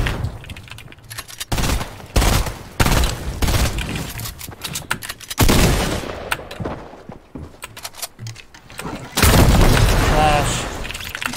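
Loud video game combat with booming grenade blasts and bursts of rapid gunfire, separated by quieter gaps where people talk.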